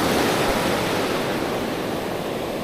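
Ocean surf breaks and washes steadily along a beach during shore fishing, a loud continuous roar of churning water with some wind buffeting, no voices.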